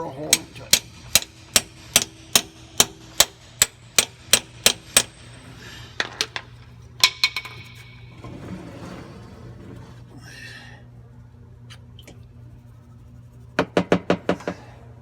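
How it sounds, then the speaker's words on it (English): Hammer striking a chisel into an engine oil filter on a DT466 diesel: a steady run of about a dozen sharp metallic blows, a pause with quieter handling noise, then a quick final burst of hits, close and loud. "We take a chisel and we bore a hole into it."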